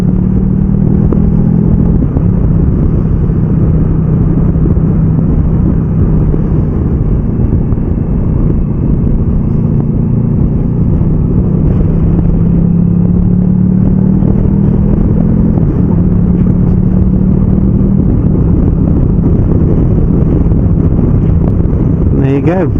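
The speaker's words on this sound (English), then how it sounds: "Have a listen to the engine." A motorcycle engine drones steadily while the rider shifts up and down through the gears without the clutch, its pitch stepping up and dropping back at each change, with constant wind buffeting over the engine.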